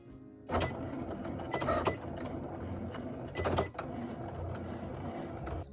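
Cricut cutting machine cutting Smart Vinyl Permanent: a steady mechanical whir with rapid clicks and short buzzing carriage movements, close and continuous, without speech.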